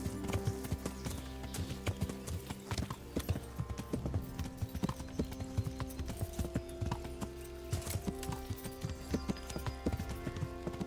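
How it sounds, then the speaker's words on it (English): Horse hooves galloping in the medieval video game Kingdom Come: Deliverance, a steady rapid clip-clop rhythm running continuously and close, with no talk over it. "Do a bit of horse drifting."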